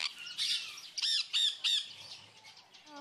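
Birds in a bird cafe where people handle them let out a series of sharp squawks and chirps, several loud close calls in quick bursts over a busy indoor background.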